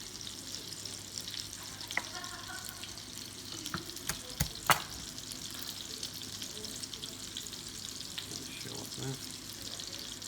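Sausages fry in a pan, a soft continuous sizzle with occasional clicks and clatters of handling, fairly quiet and without speech.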